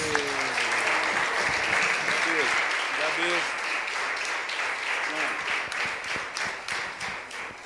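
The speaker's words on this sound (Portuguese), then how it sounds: "Diga, palmas para Jesus." Congregation clapping hands together in a church service, a dense sustained wash of applause filling the room, with a speaking voice heard briefly over it near the start.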